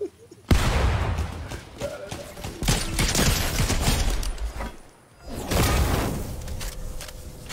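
Fortnite gunfire and explosive blasts fill the scene in dense, loud, sustained bursts with a short lull, harsh and close, under faint background talk.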